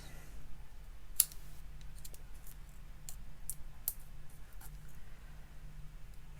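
Scissors snip through craft material in a quiet room, a few sharp, isolated clicks and cuts spread irregularly over a low background hum.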